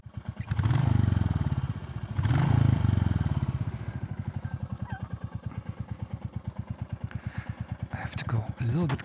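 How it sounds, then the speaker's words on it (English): A Royal Enfield Classic 350 motorcycle engine runs close by the exhaust with a steady, loud pulsing beat, rising briefly in a couple of revs before settling into a throbbing idle. "So this is the engine sound."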